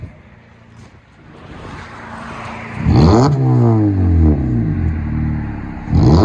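A 2019 Honda Civic LX with a 2.0L engine and muffler-delete exhaust idles with a low drone, then revs sharply into a loud, raspy climb and falls back before a second rev at the end.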